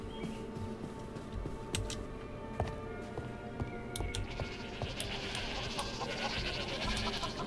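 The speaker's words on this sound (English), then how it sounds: "Okay, hello, sheep." Sheep in a modded Minecraft game bleating several times in short, nasal calls. The calls are fairly faint and scattered over a soft background with occasional clicks.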